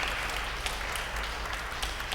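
Applause from a parish gathering in a Catholic church hall, a continuous dense patter of clapping hands from a crowd, steady and fairly loud for the whole moment.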